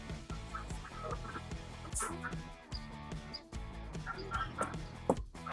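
Poultry clucking near a feeding spot where ducks are being fed, with repeated close, busy clucks and squawks over a dense background of farmyard bird noise.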